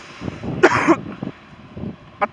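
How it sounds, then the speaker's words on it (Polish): A person coughs a few times outdoors near the remains of a steelworks, with short rough bursts spaced unevenly and one louder hack early, against a quiet background. "Powiedzcie, dlaczego ja kaszlę?"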